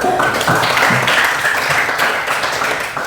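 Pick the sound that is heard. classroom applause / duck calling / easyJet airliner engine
classroom applause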